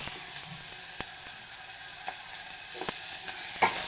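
Onion and tomato fry quietly in a pan, giving a soft, steady sizzle broken by a few sharp clicks and scrapes of stirring.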